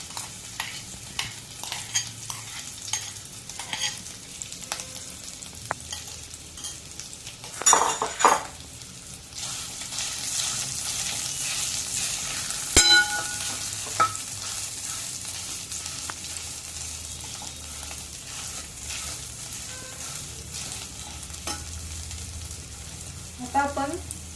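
Mashed boiled potatoes sizzling in hot ghee, with a spoon scraping and clinking against the pan as they are stirred, soft continuous frying under intermittent louder utensil knocks.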